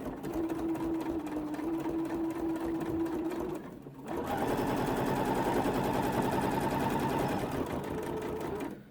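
An embroidery machine runs a straight stitch on a curved zip pouch, a steady rapid mechanical chatter close by that pauses briefly near the middle, then resumes slightly louder and denser.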